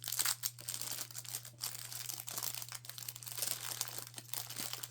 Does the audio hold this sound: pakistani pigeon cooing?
no